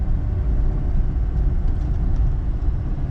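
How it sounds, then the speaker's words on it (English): An old vintage car's engine rumbles steadily and loudly at close range while the car is being driven, a continuous low drone with no talk over it. "I welcome you on this ride in my old vintage car."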